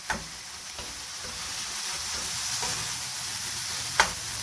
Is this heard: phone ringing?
no